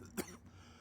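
A video game character in Call of Cthulhu (2018) coughs from oily smoke: one short, harsh cough burst near the start, then quiet breathy background.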